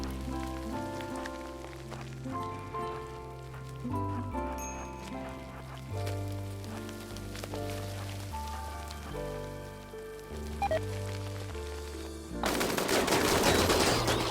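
Shooting in a video game: tonal game music plays for most of the stretch, then a loud, dense burst of rapid gunfire erupts over the final two seconds.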